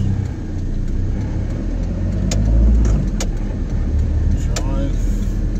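Car driving around the lakeside town of Toronto, New South Wales, Australia, a steady low engine and road rumble heard from inside the cabin with a slight swell of acceleration midway, while someone talks.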